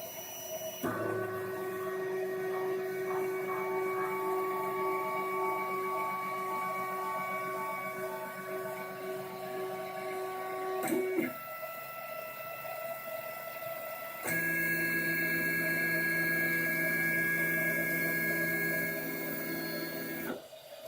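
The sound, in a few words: 3D printer printing a Nexus 7 mirror adaptor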